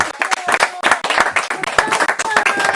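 A church congregation claps and cheers for Jesus in a dense, continuous burst of applause. Many hands ring out close and loud, with crowd voices mixed in.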